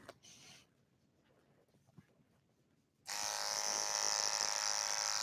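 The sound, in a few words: hair clippers cutting hair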